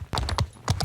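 Horse hooves in Mount & Blade II: Bannerlord clip-clop in a quick, close, loud run of sharp beats, a short gap and then another burst, with no voices over them.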